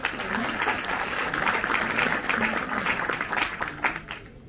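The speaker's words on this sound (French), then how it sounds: "On peut l'applaudir." A room full of people applauds steadily, dense clapping that holds for several seconds before thinning out at the end.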